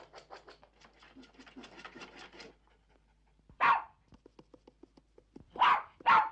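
A dog in an old Edinburgh setting gives a quick run of scratching or pawing, then short, loud, close barks in separate bursts with soft scuffling between them.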